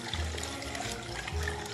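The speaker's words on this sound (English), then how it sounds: "Just gonna pour the cocktail in." Liquid cocktail splashes and trickles into a very large shaker half filled with ice, a soft steady pour close by with faint swells, no talking.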